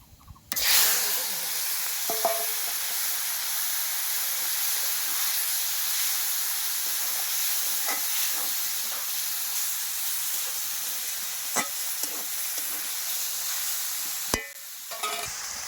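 Mustard seeds frying in hot mustard oil, a loud steady sizzle and hiss with occasional sharp pops and crackles, running continuously before cutting off near the end.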